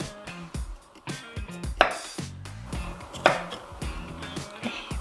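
Kitchen knife chopping raw carrot on a board, preparing food for a sugar glider: a string of close, crisp thuds and cuts in irregular bursts, with no talking.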